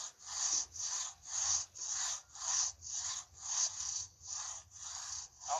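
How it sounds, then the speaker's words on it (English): Rhythmic hand sawing through wood, about a dozen even back-and-forth strokes, close and clear, with a faint low rumble beneath. "Then it's back to sawing the other side to meet up with the cut."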